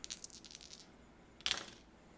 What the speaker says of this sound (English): All right, I got the dice here.